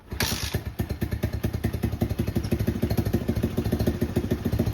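A pit bike engine runs on its own just after a cold start, with steady, rapid pulsing and a loud, close, slightly uneven idle that holds throughout.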